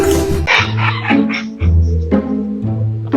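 A dog makes a series of loud, whiny, drawn-out yelps and howls close to the microphone, with short gaps between each vocal burst.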